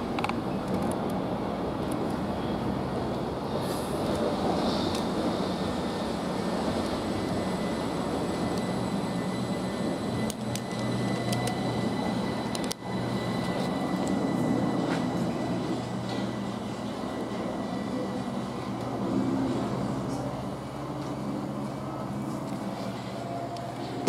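A Southern Class 377 electric train departs Ford station, giving a steady, fairly loud rolling rumble and motor drone that carries on for over twenty seconds with no talking.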